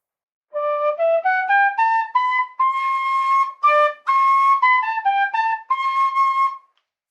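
A clear, bright tin whistle plays a run of sustained notes with brief gaps between them, solo and close, rising and falling over several seconds, using cross fingering.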